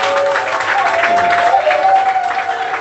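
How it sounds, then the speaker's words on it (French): An audience bursts into steady, dense applause, many hands clapping together at a fairly close, even level throughout, with faint voices mixed in beneath the clapping. "Applaudissons pour cette salutation."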